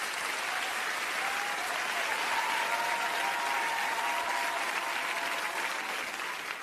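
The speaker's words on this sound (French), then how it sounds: "j'aimerais ça qu'on applaudisse les musiciens parce qu'ils sont franchement top" An audience claps steadily for musicians, a dense, even wash of applause from a sizable crowd that holds at full strength throughout and tapers only slightly at the very end.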